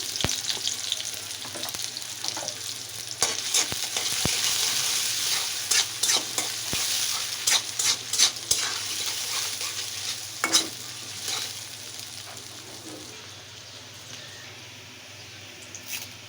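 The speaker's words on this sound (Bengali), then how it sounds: "তো আমি পরিমাণ মতো সয়াবিন তেল দিয়ে দিলাম এখন আমি দিয়ে দিচ্ছি এটাতে পেঁয়াজ কুচি" Chopped onion frying in soybean oil crackles with a constant close sizzle while a spatula scrapes and stirs in irregular bursts, the frying easing slightly toward the end.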